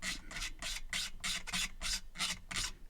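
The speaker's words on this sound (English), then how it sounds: "what I'm going to do is just scrape along the edge of this." A tool rasps in quick, even strokes along the edge of a new pickguard on a Squier Telecaster, about ten scraping passes in under three seconds, close and steady with no voices.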